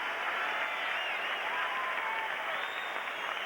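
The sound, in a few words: hockey arena crowd applauding a player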